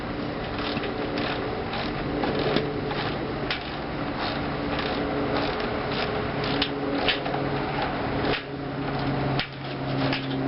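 Steady clicking of a ratchet driver backing a T45 screw out of a motorcycle muffler's top piece during shock work, a close, continuous mechanical ticking with faint metallic creaks throughout.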